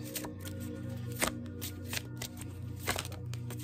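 Tarot cards being shuffled by hand, a continuous soft riffling and flapping with a few sharper slaps, close and quiet, with no talking.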